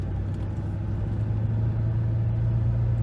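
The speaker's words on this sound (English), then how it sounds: "I'm gonna let that RPM drop so I can put it in gear. All right, here we go. Do a quick drive in the Mustang." A blue Ford Mustang, the Blue Stallion, rumbles steadily as it pulls away, its low engine drone loud and close throughout with no speech.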